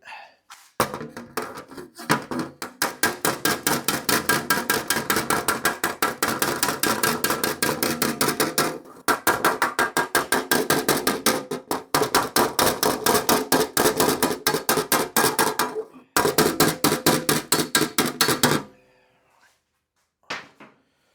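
Rapid, steady hammer taps on an aluminium kit car fairing, hundreds of close, sharp metallic blows in long runs with brief pauses, then stopping near the end.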